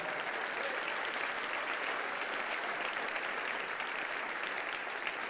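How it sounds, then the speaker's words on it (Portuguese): Steady, dense applause from a church congregation during a worship service, loud and continuous from start to finish with no break. "Vamos aplaudir o Senhor por essa vida"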